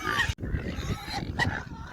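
Saddleback Duroc cross pigs being fattened for market grunt and squeal nearby, a few short nasal oinks and squeals with a brief gap, heard outdoors over wind noise.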